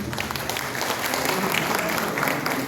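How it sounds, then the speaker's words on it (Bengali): An audience at a review meeting in Balurghat applauds a guest with steady, dense clapping that holds at an even level throughout, with faint voices mixed in. "তাকে একবার করতালিতে সম্বর্ধনা জানাতে অনুরোধ করছি"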